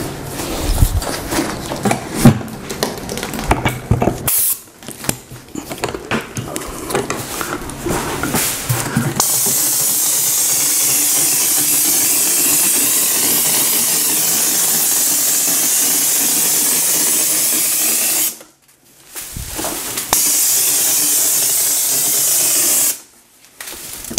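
A loud, steady pneumatic hiss of an air spray hopper spraying drywall texture runs for long stretches, stopping briefly twice, after some clattering handling noises at the start.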